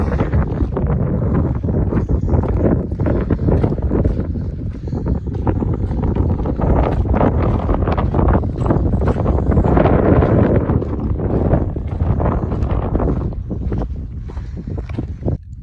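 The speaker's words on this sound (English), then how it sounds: "Yeah, this is Donohue Pass, ladies and gentlemen. A little windy." Strong, gusty wind buffets the microphone continuously at Donohue Pass, 11,073 feet high in the Sierra Nevada, a loud roaring rush with no voices.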